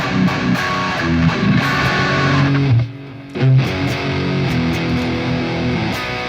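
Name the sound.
electric guitar tone with phaser effect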